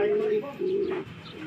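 Racing pigeons coo in short, close bursts, two low tonal notes in quick succession over a quiet background.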